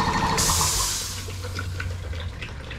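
Water drains out of a washed-up boat engine, a splashing gush that starts strong and then eases into a gentler trickle and dribble up close.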